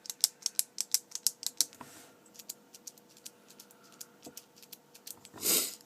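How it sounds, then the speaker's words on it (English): A run of soft, rapid clicks from a pen's click mechanism, quiet and close, about a dozen quick snaps at first and then sparser ones, with a slightly louder rustle at the very end. "the clicking function is silent, or nearly silent, when compared to a normal pen"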